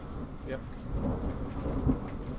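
Rumbling thunder from a storm outside, heard indoors as a low, continuous roll with a steady rain-like wash throughout, distant and muffled rather than a sharp crack.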